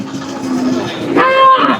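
Kangeyam-breed cattle at the Kundadam cattle market, one loud, close, drawn-out moo with a rising, strained tail over a murmuring market background.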